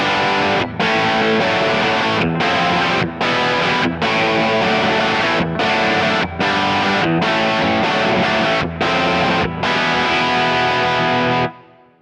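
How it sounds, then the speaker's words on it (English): A loud electric guitar on the bridge pickup through a Fender Deluxe tube amp with a crunchy, overdriven tone plays chords in rhythmic strums, then rings out and fades at the end. "To get some really nice crunch tones out of this deluxe."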